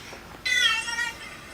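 A single cat meow rises clearly from a quiet background, a tonal, harmonic call lasting under a second before fading back to near silence.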